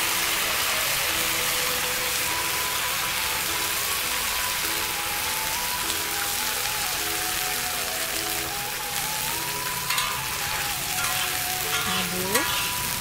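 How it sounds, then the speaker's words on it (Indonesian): Blended rendang spice paste sizzles steadily in hot oil in a pan, a dense continuous frying hiss with occasional stirring scrapes, close and unbroken for the whole stretch. "Tumis bumbu yang sudah kita blender."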